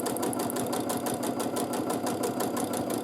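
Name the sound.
sewing machine free motion quilting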